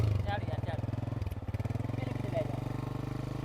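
A motorcycle engine runs nearby with a steady, rapid low thumping pulse throughout, while people talk over it on a village ride to fetch animal fodder.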